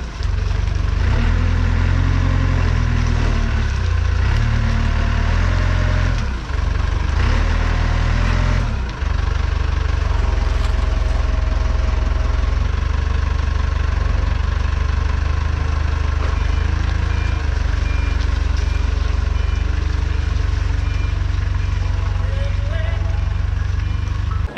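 A 1994 Volkswagen Golf 3 engine idles roughly and loudly up close, a steady low rumble with an uneven, sickly beat, dipping briefly near the start before settling into a continuous drone with a voice speaking over it.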